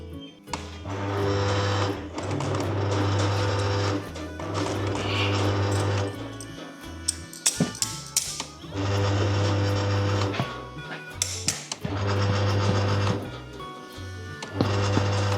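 A forklift runs with a loud, steady mechanical drone and busy rattling, the noise broken by short pauses, clanks and knocks before it resumes.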